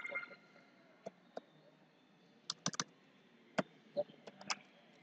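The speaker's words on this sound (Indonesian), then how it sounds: "Saya mengetik" Quiet typing on a computer keyboard, scattered light key clicks in irregular bursts with a few louder taps, close by in a calm room.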